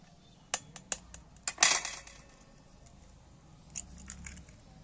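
Eggs cracked against a bowl rim for a masoor dal recipe: a few sharp, close clicks and taps, then a brief crunchy crackle as the shells split, with quiet room noise and no voices.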